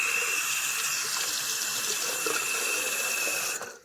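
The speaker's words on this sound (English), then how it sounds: "Then you're going to wash it out." A lip plumper tool is rinsed under a running tap, giving a steady hiss of water splashing into a sink that holds evenly for a few seconds and then cuts off.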